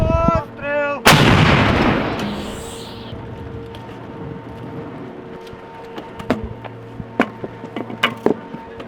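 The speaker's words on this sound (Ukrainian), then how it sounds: "Постріл! Постріл!" A heavy artillery gun fires once on a war front line with a deep, booming blast that rolls and fades, followed by scattered sharp cracks and clanks nearby.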